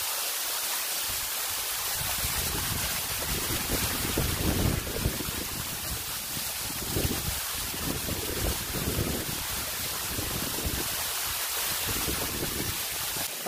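Singsing Kelesih waterfall at Dusun Wangayo Bendul, Wangayo Gede village, Bali, gives a steady, dense roar of falling water, with gusts of wind buffeting the microphone throughout.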